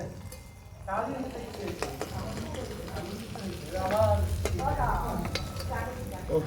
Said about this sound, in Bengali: মাছটা এই যে লাল লাল করে ভাজা হয়ে গেছে, এবার উঠিয়ে নেব